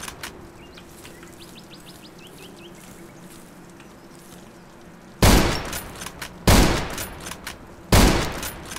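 Sniper rifle shots ring out in the video game Zero Sievert: three loud, sharp reports spaced over the last few seconds, after a quieter stretch of ambient chirping birds.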